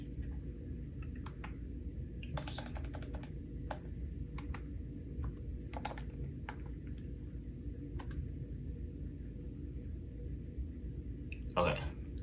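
Typing Linux commands on a computer keyboard: scattered bursts of key clicks and taps in irregular clusters over a steady low hum, fairly close, with one louder clatter near the end.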